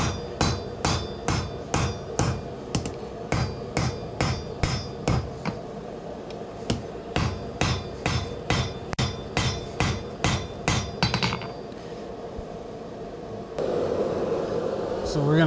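Rapid, regular hammer blows ring out loud and close as Damascus steel for a hunting knife with an integral guard is forged, drawing the front to a taper; steady strikes run in quick bursts, then stop, leaving a broad roaring hiss.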